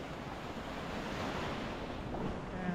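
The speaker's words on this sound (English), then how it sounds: "Show you also the waves that are coming from the ferry of Thin Line" Waves wash steadily onto a beach beside Fort Perch Rock in Liverpool, partly stirred up by a passing ferry, making a continuous loud surf roar mixed with wind buffeting the microphone.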